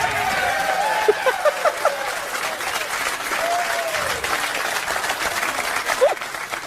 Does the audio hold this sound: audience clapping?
yes